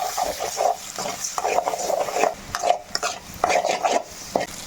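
An egg is beaten and broken up in a pan while chicken pasta is being cooked, producing close, rhythmic scraping and tapping strokes that repeat steadily, with no talking.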